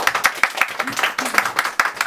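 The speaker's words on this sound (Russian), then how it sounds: "Мы Максиму аплодируем." A small audience at a flute masterclass claps for a student flautist, with distinct, fairly even handclaps close by for about two seconds and a faint voice underneath.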